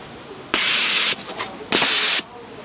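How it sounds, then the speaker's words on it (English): A haunted house air blaster prop fed by a hose fires two sharp hissing blasts of compressed air, each about half a second long, loud and close, with faint rustling between them. "I put in 4 air blasters down here."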